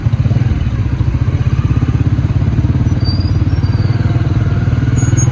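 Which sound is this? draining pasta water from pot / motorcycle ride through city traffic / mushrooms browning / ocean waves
motorcycle ride through city traffic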